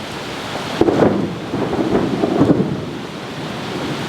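Deep thunder rolls through a rainstorm after lightning, with two heavier rumbling swells over a steady wash of rain, loud and close, no talking.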